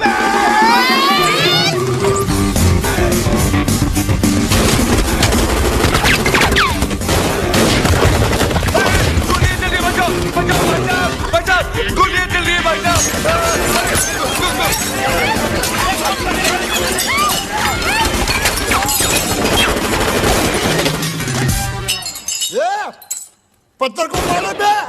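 Rapid bursts of comic film gunfire fired at a stone, mixed into a dense, loud soundtrack with crowd shouting, music and voices throughout, ending in a brief near-silent gap.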